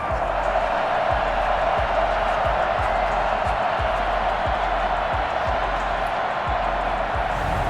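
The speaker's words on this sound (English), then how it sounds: "This crowd urging on their Ravens" A big Ravens football stadium crowd roars for a third-down stop, a dense, continuous wall of cheering with muffled thumps beneath it and a commentator's voice over the top.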